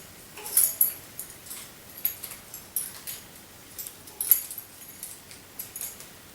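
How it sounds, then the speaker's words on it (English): An ordinary set of keys jangling in a quiet room, a few short metallic clinks and rattles in bursts, close and fairly soft, with no talking. "Ordinary set of keys"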